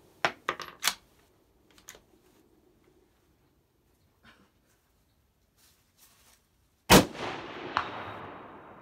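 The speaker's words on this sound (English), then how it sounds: "There's a hit dead center, about 3 inches to the right of the first shot." Rifle shots from a Howa 1500 Mini-Action in 6.5 Grendel, fired at a 200-yard target: a few sharp cracks at the start, then one loud close shot near the end with a long decaying outdoor echo.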